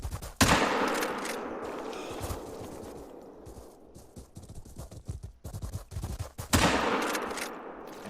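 Two rifle shots ring out at an animal in theHunter: Call of the Wild, loud sharp cracks near the start and again near the end, with game ambience and rustling between them.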